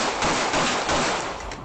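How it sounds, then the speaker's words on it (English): Rapid bursts of gunfire crackle in a dense, continuous volley, like automatic shots echoing outdoors on a Toronto street on a Saturday night, sustained for a couple of seconds. "we determined that it had been gunshots"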